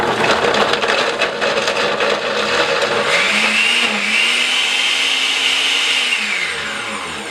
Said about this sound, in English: we're going to start blending it, and the blending can go a little bit tough since it is so frozen